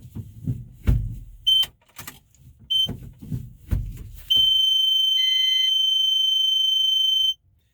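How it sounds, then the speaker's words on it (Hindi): A reverse parking assist buzzer on a small commercial vehicle sounds when reverse gear is engaged: a few short electronic beeps over low rumble, then one loud continuous tone held for about three seconds before it cuts off. "ये 3 सेकंड का बजर बजता है, कंटिन्यूस बीप होता है।"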